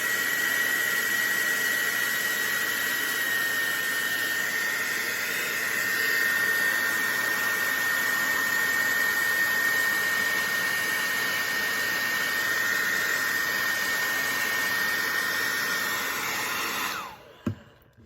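A hair dryer blows steadily and loudly at close range while heating Talon grips on a Kahr CM40 .40 caliber pistol, a constant whine and rush of air running for about seventeen seconds before it switches off and winds down.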